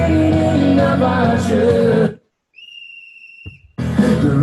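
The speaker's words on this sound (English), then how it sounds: "There's a whistle there as well." A soloed whistle sample from a pop-dance song mix, a steady sustained high whistle tone lasting about a second, standing alone between bursts of the loud full track.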